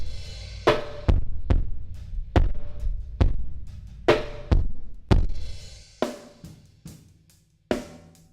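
A kick drum run through a CLA-2A compressor with heavily exaggerated gain plays a steady pattern of deep, thick thumps, about a dozen hits with short tails, loud and alone with no voices.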